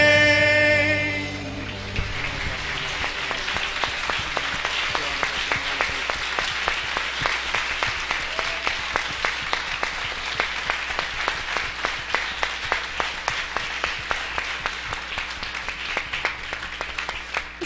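A church congregation applauding together, a dense, steady wash of clapping that swells at the start with a brief fading musical tone and keeps up loud and even before thinning slightly toward the end.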